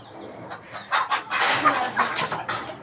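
A hen held in hand clucks in short, repeated bursts, fairly close, with some rustling and scuffling around it.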